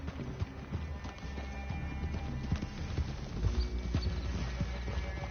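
Horses' hooves clip-clopping in Red Dead Redemption 2, a steady close trotting patter with an occasional whinny, continuous over low game ambience and no talk.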